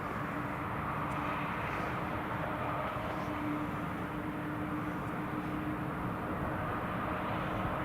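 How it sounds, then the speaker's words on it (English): An Embraer jet taxiing at Newcastle Airport, its engine a steady, continuous broadband roar with a faint whine, holding even loudness throughout without talk. "we should see the Embraer just taxiing out now"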